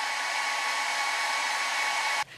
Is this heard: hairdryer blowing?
yes